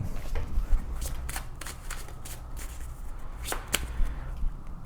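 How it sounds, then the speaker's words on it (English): Oracle cards are shuffled by hand in a series of quick, crisp riffling bursts, each a short papery flutter, close and clear over a low background hum. "Let's actually pull your oracle cards."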